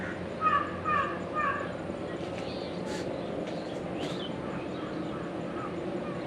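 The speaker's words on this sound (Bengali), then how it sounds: "পাখির আওয়াজ আছে" Crows caw a few times near the start amid dense trees by Chilika Lake, followed by fainter scattered bird calls over a soft outdoor background.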